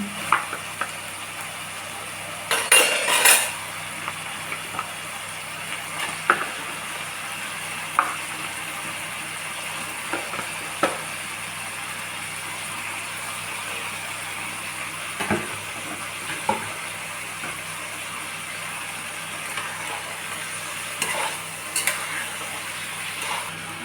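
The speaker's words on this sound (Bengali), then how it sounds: "এবার আমি ধুয়ে পরিষ্কার করে রাখা চিকেনটা দিয়ে দিচ্ছি।" Washed chicken pieces go into a pan of fried spice masala for a Bengali chicken curry and are stirred, giving a steady low sizzle with occasional clattering stir strokes and brief louder bursts, and no talking.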